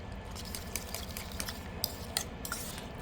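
Two eggs being beaten in a bowl for a mustard-flower omelette, quick rhythmic clinking and scraping strokes of a utensil against the bowl, fairly close and moderately quiet.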